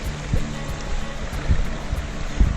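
A creek in New Zealand rushes along in a steady, close, broadband wash of flowing water with low surges, and no voices over it.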